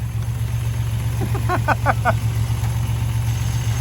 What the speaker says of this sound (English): all of a sudden, Damien's car is back alive